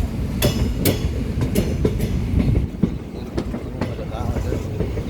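Passenger train on the Punalur to Aryankavu line travelling through forest, close rhythmic clickety-clack of wheels over rail joints under a loud steady rumble, with faint voices from inside the carriage.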